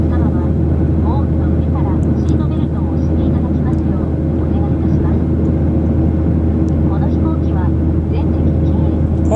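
Steady, loud cabin drone of a Skymark airliner in flight over Kobe at night, a constant low engine roar filling the whole stretch, with a voice speaking over it.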